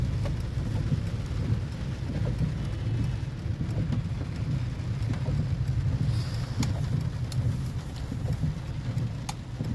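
Steady rain with rumbling thunder, heard from a car while driving through a downpour; a dense, continuous wash of rainfall over a deep low rumble that lasts throughout, with no talking.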